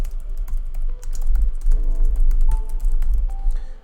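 Computer keyboard typing sounds as rapid, uneven key clicks, close and fairly loud, over a low background hum, with no talk.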